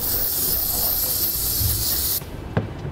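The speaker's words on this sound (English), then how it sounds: "I always like to take a clean shop towel with some brake parts cleaner" Brake parts cleaner hisses from an aerosol can onto a shop towel in a steady, close spray for about two seconds, then stops abruptly, followed by a faint handling sound.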